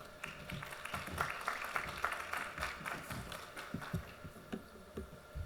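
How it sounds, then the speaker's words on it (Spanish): Scattered applause from the audience at a Spanish-language neonatology lecture after a pediatrician is introduced, sparse uneven claps rising and thinning out, fairly quiet. "Un aplauso."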